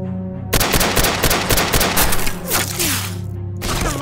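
Rapid bursts of gunfire from a Madness Combat animation crack and boom in dense, loud volleys, nearly continuous machine-gun fire with a few heavier thumps.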